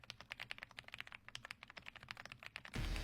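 Rapid, steady typing on a modified full-size AJAZZ AK35i V3 mechanical keyboard with dark red keys, close and crisp, the clacks running continuously before a louder burst of noise cuts in at the end.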